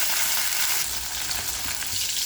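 Green chilies frying in two spoons of oil, a loud, close, unbroken crackling sizzle with faint stirring beneath it and no speech.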